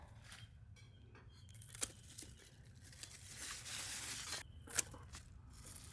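Bolting salad greens in a Los Angeles garden are cut back by hand, with faint, close snips, rustles and leafy tearing sounds coming in irregular bursts.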